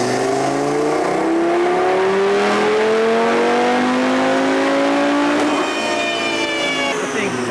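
Car engine revving through a full dyno pull on a JB4 Map 2 tune running E20 fuel: a loud, steadily rising roar climbing in pitch for several seconds, then a shift and a brief second climb before easing off.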